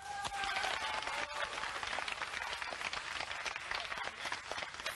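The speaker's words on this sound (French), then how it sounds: "On applaudit?" A studio audience applauds during a live French radio broadcast at Europe 1, a steady wash of clapping lasting several seconds with some faint voices underneath.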